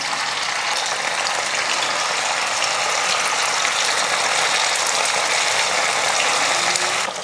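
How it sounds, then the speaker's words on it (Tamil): Marinated fish pieces fry in hot oil for a Tamil banana leaf lunch, giving a dense, steady sizzle and crackle up close that holds evenly throughout, with no talking. "இப்போ மீன் வறுத்துக்கலாம். எண்ணெய் நல்லா காஞ்சிருச்சு. மீன் பொரிச்சிக்கலாம்."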